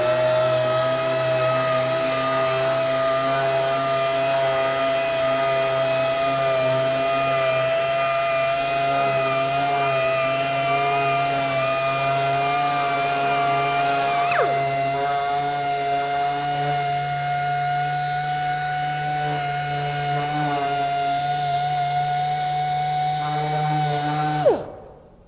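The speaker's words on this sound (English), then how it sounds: "Now, to remove that ink mark, I really kind of had to tip my sander." Sanders fitted with Scotch-Brite surface conditioning discs remove an ink mark, making a steady high whine and hum that runs close and loud before spinning down at the end.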